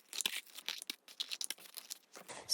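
Scissors cut through paper junk mail for a collage in a quiet room, making a series of short, soft snipping and crinkling sounds in an irregular rhythm.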